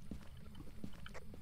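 A sink tap left running in the Phasmophobia ghost-hunting game gives a steady, moderately loud rush of water, broken by a few soft knocks and clicks, with no talk.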